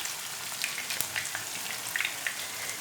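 Grated raw potatoes for hash browns fry gently in a pan over low heat, giving a soft, steady sizzle with small crackles and pops scattered throughout, close by and without any talking.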